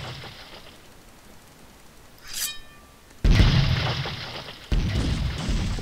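Cannon fire and explosions from the pirate ship-battle video game Galleons: two loud, heavy booms, the second following about a second and a half after the first, each trailing into a rumbling roar. A short high burst comes before them.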